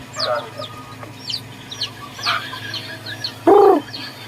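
A native wild-type chicken gives one loud, clear clucking call partway through, outdoors, with faint scattered chirps from other birds around it.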